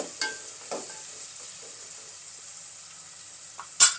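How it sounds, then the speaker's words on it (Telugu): Onions frying in a pan for a mutton drumstick curry, a soft constant sizzle with a few faint clicks of a spoon and a sharper scrape near the end, no talking. "ఈ బ్రౌన్ కలర్ వచ్చేదాకా వేపుకుందాము"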